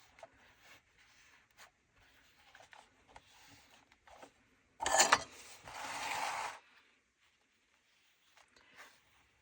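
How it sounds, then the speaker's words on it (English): A plastic scraper drags paste across paper in one close scraping pass lasting about two seconds, with soft scattered handling noises before and after. "So I'm just using this scrapey thing. I don't know, probably came from a hardware shop. It's just plastic."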